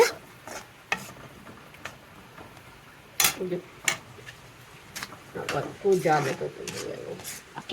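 A bitter gourd dish with garam masala stirred in a pan, giving sporadic scrapes and clinks of a spoon against metal over a faint sizzle, with a voice heard now and then.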